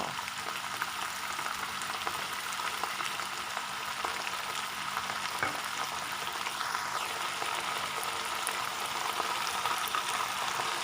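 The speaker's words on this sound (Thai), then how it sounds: "ต่อจากนั้นเราก็เปิดไฟแรงเลยนะคะ ผัด ใส่น้ำมันหอยเลยค่ะ" Cabbage stir-fried with oyster sauce in a pan over high heat gives off a steady, even sizzle with a faint crackle that keeps up at a constant level the whole time, with no talking.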